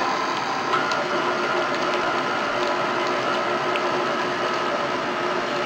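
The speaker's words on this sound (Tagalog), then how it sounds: "Gamit lang tayo ng electric mixer para ma-beat ito or ma-whisk." An electric mixer beats softened butter in a bowl for cookie dough, giving a steady, continuous mechanical whir with a grinding, ratchet-like texture that runs evenly throughout.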